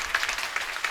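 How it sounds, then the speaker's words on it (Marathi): Audience clapping at a Marathi kirtan devotional gathering in a village: a brief burst of dense, continuous applause from a crowd, heard alone without speech. "वा वा वा, टाळी वाजवा."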